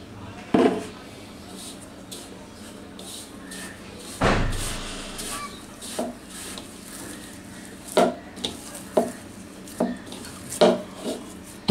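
Semolina batter is stirred with homemade sour yogurt in a bowl, giving a run of dull knocks and wet taps at irregular intervals, with one louder thump early on and someone speaking between them.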